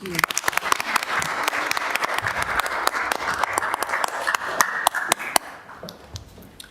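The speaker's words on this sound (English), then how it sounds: "Can we give them a round of applause?" Applause fills a city council meeting chamber as many hands clap in a dense, steady patter for several seconds before it thins out near the end. Voices murmur faintly underneath.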